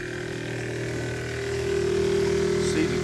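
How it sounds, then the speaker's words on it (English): Liquid pump priming on a chemical fill line, a steady mechanical hum with tonal whine that swells slightly and firms up partway through, heard close and continuous. "You can hear the pump priming."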